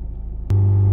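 A Honda Civic engine catches with a sudden thump halfway through, then holds a steady, low droning idle hum close by with no voices.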